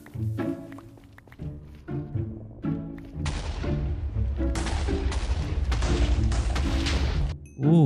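Muffled thumps at first, then a dense chain of loud booming TNT explosions in Minecraft, mining for ancient debris, rolling on continuously for several seconds before a final hit.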